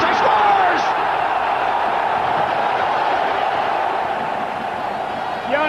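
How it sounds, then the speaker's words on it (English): A large ice hockey arena crowd roars after Sweden's first goal in a 1991 world championship game against the USSR, a loud, sustained wall of cheering and whoops that stays steady throughout, with a commentator talking over it. "The crowd is on their feet going wild."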